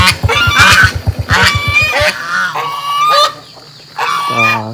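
Loud farmyard poultry in a rural Thai village near Lamong give repeated honking calls, starting with a quick rapid-fire burst and then longer separate cries, close and prominent, with no talking.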